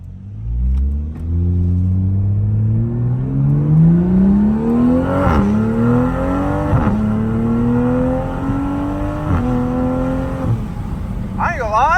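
A Toyota Supra fitted with a 5-inch downpipe revs up loudly and close, then lets off into crackling exhaust burbles and pops over a deep rumbling idle.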